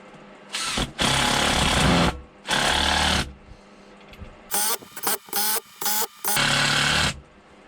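A power drill drives one-inch screws into a wooden bowl blank to mount a lathe faceplate, heard as loud close bursts of whirring motor, two long runs and then several short stuttering pulses, with quiet gaps between.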